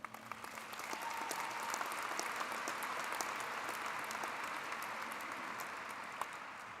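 Sustained applause from a commencement crowd at a University of Minnesota undergraduate ceremony, a dense wash of many hands clapping that swells after a second and holds steady to the end.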